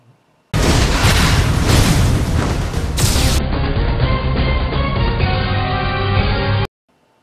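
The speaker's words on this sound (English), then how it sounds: "Samus then turns on her super missile and plasma beam and gets into action." Explosions in the Ridley boss fight of Metroid: Other M, a dense, continuous barrage of booms and blasts layered over loud game music, sustained for about six seconds with no talking.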